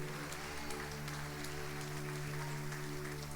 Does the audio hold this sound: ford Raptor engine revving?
no